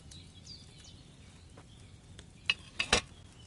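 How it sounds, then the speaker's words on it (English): Wine boils in a cauldron over a flame in Kingdom Come Deliverance 2, a faint soft simmer broken near the end by a few sharp bubbling pops. "Hear that bubbling? It's boiling."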